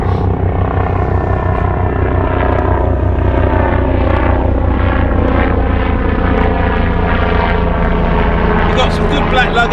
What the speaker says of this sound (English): Helicopter coming in from the rigs or whatever